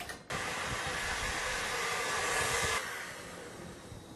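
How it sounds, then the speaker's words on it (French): An electric mixer with whisk attachments beats whole eggs and sugar in a bowl, giving a steady, loud whirring motor hiss that drops to a softer, lower whir near the end. "Nous allons les monter au fouet au batteur pendant environ 3-4 minutes."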